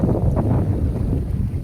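Cold wind rushes and buffets steadily against the microphone outdoors, a loud continuous roar with no talking.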